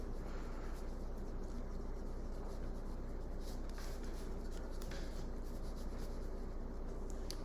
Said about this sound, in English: I'm gonna erase my board